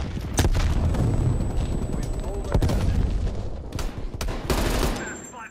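Gunfire erupts during a Call of Duty Black Ops Cold War team deathmatch in Moscow, with loud bursts of automatic fire, sharp single shots and booming impacts crowding together at close range.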